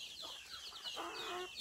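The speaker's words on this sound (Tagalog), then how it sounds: "Wow, ang daming manok." Native chickens on a farm cluck and chatter in short overlapping calls, close by, over a constant murmur of background noise.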